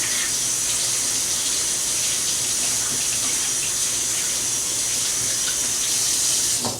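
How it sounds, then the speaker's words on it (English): Tap water runs in a steady, even gush as pre-washed celery stalks are rinsed again under the faucet, with no voices over the noise. "these are the ones that are pre-washed, but I give them another rinse"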